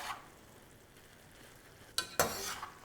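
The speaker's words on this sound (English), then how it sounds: "So I'm just going to add my parsley to my filling mixture. Just going to give this a nice mix." Parsley stirred into a stuffing mixture for Cornish hens, a soft scraping stir under low background noise, then two sharp louder scrapes or clinks near the end, close and alone with no talk.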